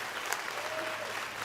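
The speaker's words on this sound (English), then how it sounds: "Yeah, you can clap." Audience applause at a live Americana music show, a steady wash of clapping filling the whole moment at moderate, fairly distant level with no voices on top.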